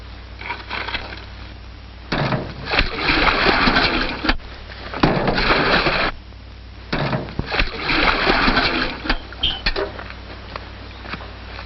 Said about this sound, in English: the water tank needs filling. Of course. And how would Madame like it filled? With water. 2 buckets at a time.